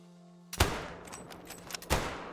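Two sharp rifle shots at a buck in the Call of the Wild hunting game, the first loud and close with a short reverberant tail, the second following about a second and a half later, preceded by a low hum.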